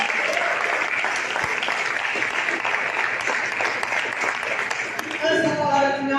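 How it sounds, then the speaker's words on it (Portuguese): A church congregation applauds with steady, dense clapping, and a voice rises over it toward the end. "aplauda o nome do Senhor Jesus"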